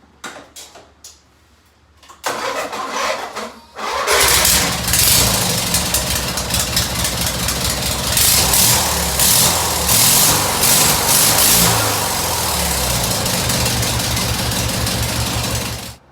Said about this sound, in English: I'll fire it up for you guys here just to show you that with the 2 spacers I'm not having any issues